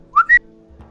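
A game master imitates a character's light whistle from the cheek with their voice: two short, bright whistled chirps in quick succession, close and clear, followed by quiet.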